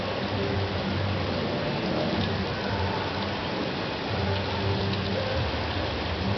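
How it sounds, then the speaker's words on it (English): Heavy rain pours steadily outside an open window during a December storm, a dense, even hiss of drops on surfaces that stays loud and constant throughout, with no voices. "I don't remember it being this rainy in a long time."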